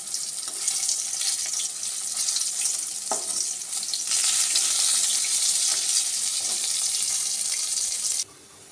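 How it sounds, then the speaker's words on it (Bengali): Fish frying in a pan in a home kitchen, a steady close crackling sizzle that lasts nearly the whole time, briefly louder midway, then cutting off sharply near the end. "এই যে মাছটা ভেজে নিচ্ছি"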